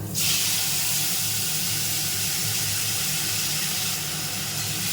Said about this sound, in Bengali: এই নুন হলুদ লাগানো আলুটা দিয়ে দিলাম